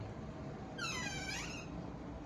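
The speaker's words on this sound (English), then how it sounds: "I don't know why it squeaks because it's brand new hinges" Brand-new hinges on a lift bridge of a postwar O gauge model railway layout give a single thin, rising squeak lasting under a second over a low background hum.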